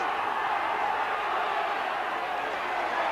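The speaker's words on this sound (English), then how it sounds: "their crowd are starting to get behind them now" Home crowd at a 1997 Castleford rugby league match against Oldham, a steady, dense roar of massed voices holding at an even level throughout without sharp peaks or pauses, filling the stadium.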